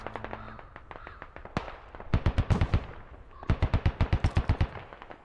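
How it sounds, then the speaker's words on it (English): Heavy gunfire in the military video game Squad: a single crack, then two rapid bursts of loud automatic shots with short pauses between them. "Some big gunshots over here."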